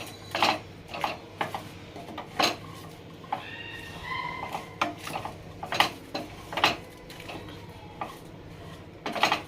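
Raw mango pieces are mixed with turmeric and spices in a metal bowl, a spoon clinking and scraping in repeated sharp taps against the vessel, close and fairly loud.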